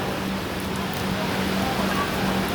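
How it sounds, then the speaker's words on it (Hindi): Heavy rain during a Sarai Ghat Express journey from Howrah to Guwahati, near New Bongaigaon Junction. It makes a steady, dense hiss that holds at one level throughout with no breaks. "ये देखिए कितना बारिश हो रही है।"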